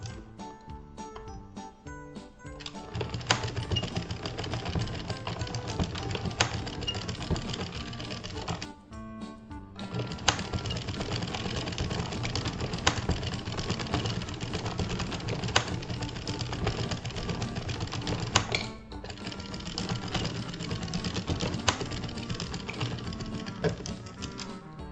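A hand-cranked knitting machine works rows of waste yarn for a blanket, producing a continuous dense mechanical clatter and whir, briefly pausing twice as each pass ends, close and steady with no speech.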